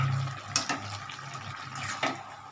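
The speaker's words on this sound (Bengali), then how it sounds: "এটা জল দিয়ে ধুয়ে দিয়ে দেবো।" Water splashes over a fish head being rinsed in a kitchen, with a continuous light trickle and two brief splashing surges, close and soft.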